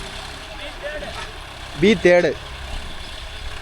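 A John Deere 5050D 4WD tractor runs with a nine-tine cultivator attached, its engine a steady low rumble throughout, with someone speaking briefly over it.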